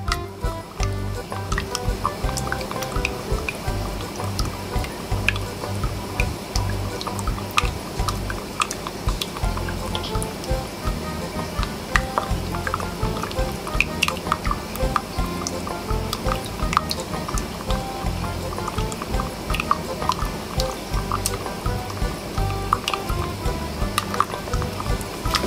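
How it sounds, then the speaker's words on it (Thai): Homemade coconut oil hand cream is stirred continuously in a bowl, giving a steady wet squishing with light ticks of the utensil, close and unbroken. "เราจะคนกันไปเรื่อยๆนะคะ"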